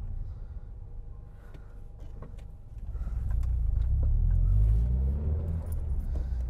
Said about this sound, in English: I'm stuck in traffic now.